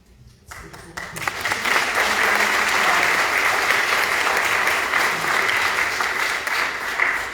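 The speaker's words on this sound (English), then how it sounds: "give a round of applause for all the organizations" After a brief quiet start, a large audience bursts into sustained applause at a civic event honoring organizations, filling the room loudly and evenly to the end.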